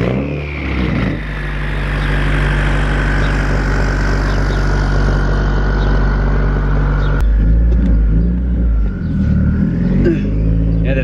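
A Subaru WRX with a freshly reset ECU driving at low speed around a block, its engine giving a loud steady drone from inside the cabin with a shift or throttle change partway through, and a voice briefly under the engine noise.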